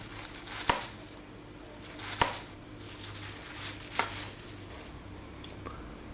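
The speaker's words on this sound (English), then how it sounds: "Then we're going to cut it from the center and cut slices out of it." A knife slices through half a cabbage, cutting from the center outward: about four sharp, crisp cuts spaced a second or more apart, close and fairly clear over a quiet room.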